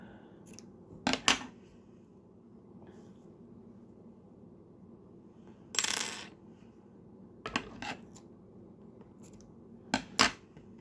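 Scissors snip through knitting yarn in a few separate bursts of sharp, close metallic clicks and shearing, with quiet pauses between them.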